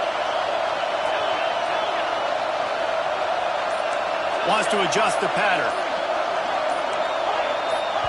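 Football stadium crowd, a loud steady roar of many voices filling the space, swelling briefly midway, with a commentator talking over it.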